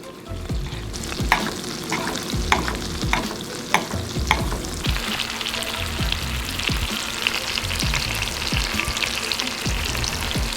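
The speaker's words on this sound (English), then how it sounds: "steaks are in the pan, and what I'm going to do is take a spoon and constantly keep putting this butter over each steak" Filet mignon steaks fry loudly in a pan while a spoon bastes them with butter, close sizzling with repeated metallic clicks of the spoon early on, then a denser, steady spatter.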